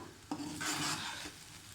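Chinese rice is stirred and tossed in a pan, a brief, close scraping and rustling sweep with a soft sizzle, starting with a small knock and fading after about a second.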